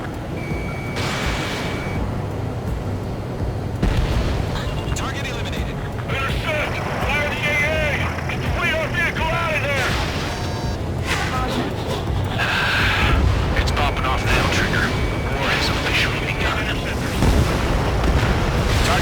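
Explosions from anti-air radar vehicles being destroyed in the Ace Combat 7 combat flight game, heavy booming blasts over the roar of jet engines, with radio voices speaking and electronic warning beeps.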